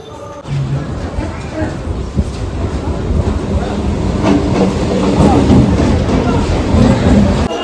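Ride inside a moving passenger train: a continuous low rumble and rattling clatter of the carriage, growing slightly louder, with murmured voices of passengers in the background.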